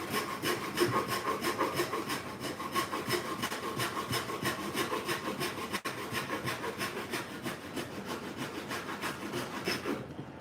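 A hand saw cuts wood with the rip side of its blade, making rapid rhythmic rasping strokes at an even pace, loud and close, without speech.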